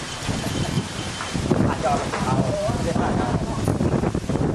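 Strong wind buffets the microphone at an outdoor mini-marathon in Sing Buri, a loud continuous rumbling roar with voices talking faintly beneath it.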